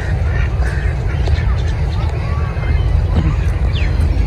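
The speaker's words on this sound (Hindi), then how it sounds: "ये डक्स आई हुई नीचे, ये देखो" Ducks at a safari park quack intermittently amid steady wind and outdoor bustle, with people talking nearby throughout.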